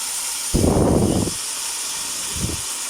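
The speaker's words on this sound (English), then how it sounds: "Now add in your mince and let this fry for about 5 minutes" Mince frying in a pan, with a sudden loud sizzle as the meat hits the hot surface that fades after about a second, then a shorter, fainter hiss over a steady background hum.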